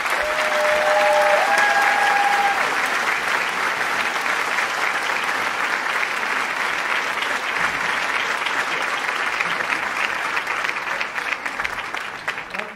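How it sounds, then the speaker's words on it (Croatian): An audience at a film festival awards ceremony applauds, a dense sustained clapping that stays loud for most of the stretch before thinning slightly at the end, with a brief whistle near the start. "I ajmo jedan veliki aplauz za sve njih."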